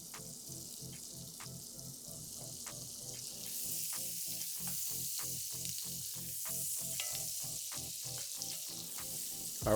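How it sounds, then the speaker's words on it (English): Peppers and onions sizzle steadily in butter in a skillet, with a rhythmic series of spatula scrapes and stirs across the pan that grows slightly louder midway, and no voices. "Add in some butter, and then go ahead and add in your peppers, your onions."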